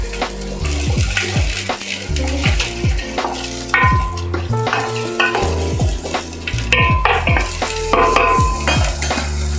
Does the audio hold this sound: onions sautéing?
yes